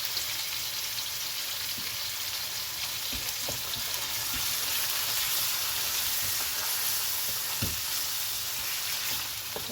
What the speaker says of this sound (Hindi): इसको अच्छे से भूनना है इस अनियन में।